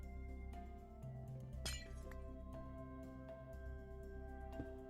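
Glass blocks being placed in Minecraft, a few light clinks and one sharper glassy crack over a steady hum of game background sound.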